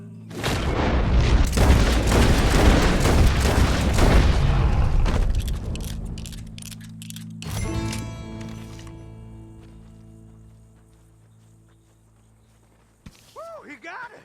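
A gunshot in Red Dead Redemption 2 sets off a loud, booming burst that keeps rumbling for several seconds. A sharp crack follows, then the sound fades, with some voice near the end.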